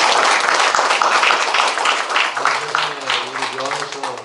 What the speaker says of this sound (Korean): 한 번 좀 박수 좀 쳐주십시오.